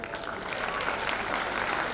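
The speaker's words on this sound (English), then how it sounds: "Give a big hands to those also" Steady, even applause from an audience thanking anchors at an event, dense clapping sustained throughout the short stretch with no pause.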